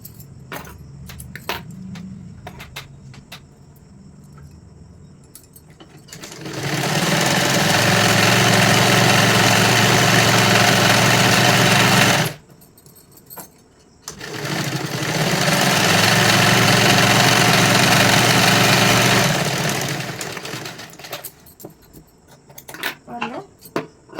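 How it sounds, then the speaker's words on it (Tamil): A sewing machine stitches the hem of a 44-size katori blouse in two long bursts of steady, loud whirring, separated by a short pause. Quieter handling sounds and faint talk come before, between and after the runs. "இந்த கீழையும் அதே மாதிரி நம்ம ஓரமாக தையல் போட்டுக்கலாம்."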